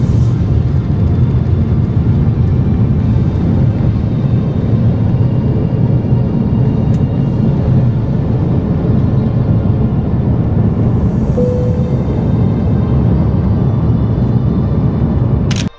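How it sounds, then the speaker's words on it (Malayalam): A passenger airliner taking off, heard from inside the cabin: a loud, steady low engine roar and rumble that holds without a break, with no talk. "ഇനി ഇതേ ഫ്ലൈറ്റ് ടേക്ക് ഓഫ് ചെയ്യാൻ പോവാണ്"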